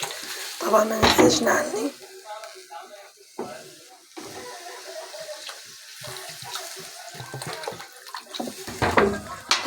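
Water pours into a pot of rice with a splashing gush, loud and close at the start and again near the end, while someone speaks between the pours.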